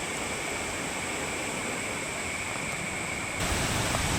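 A small waterfall spills down a hillside in Australia as a steady, broad rushing roar, with a high constant whine running above it and a slightly fuller surge near the end.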